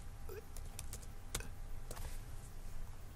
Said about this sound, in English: I'll just type it in the beginning of my column here.